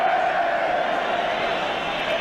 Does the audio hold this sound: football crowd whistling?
yes